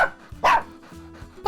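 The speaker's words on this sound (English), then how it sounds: "Dog." A dog barks a few short, sharp times over faint background music, with quiet gaps between the barks.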